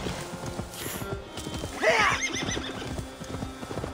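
Horse hooves clip-clop in a steady rhythm in Assassin's Creed Valhalla while a horse lets out a loud, rising whinny midway, close and clear.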